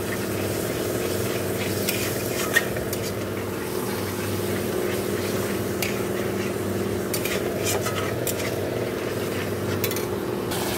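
Masala spices with salt, turmeric and sugar cook down in hot oil in a pan, a steady low sizzle with scattered scraping and clinking of the stirring spoon against the pan throughout, close and continuous, no talking.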